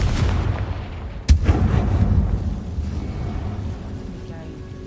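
Confringo fire spell from the video game Hogwarts Legacy bursting in a single sharp blast, followed by a rumbling, crackling roar that slowly fades under a low game ambience.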